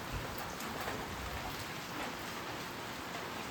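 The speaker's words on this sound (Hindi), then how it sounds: "अचानक से इतनी तेज बारिश स्टार्ट हो गई।" Sudden heavy rain pours down in a dense, constant roar, close and loud throughout, with no speech over it.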